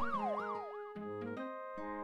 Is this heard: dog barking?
no